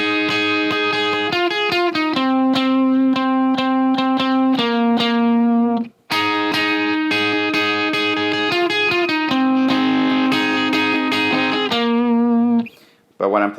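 Electric guitar plays the melody of a song, a sustained, slightly driven single-note line with slides and bends, one brief gap midway and a quick pause near the end, close and unaccompanied.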